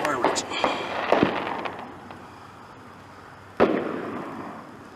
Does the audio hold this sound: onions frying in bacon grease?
no